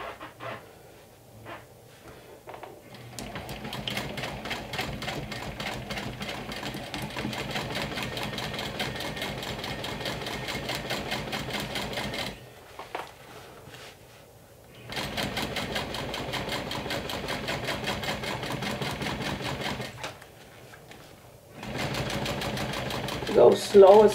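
Sewing machine stitching a seam on a Haunted Mansion inspired crossbody bag, running steadily in long even bursts with short pauses between them, close and moderately loud.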